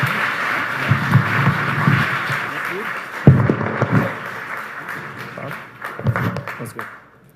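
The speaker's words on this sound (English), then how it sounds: "Big round of applause" An audience applauds at a Spotify press conference with a Metallica member and a tech investor: a dense, sustained patter of clapping that swells early and then slowly thins out, with thumps and voices breaking in over it.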